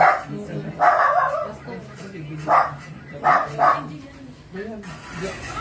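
Several dogs bark and yip in scattered bursts, close by, mixed with people talking.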